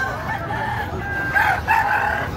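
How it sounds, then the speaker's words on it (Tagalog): Roosters crow at a game fowl expo in a pet market, one drawn-out crow rising clearly over a busy background murmur. "Bukawi Game Fowl Expo. Ayan ang mga manok nila."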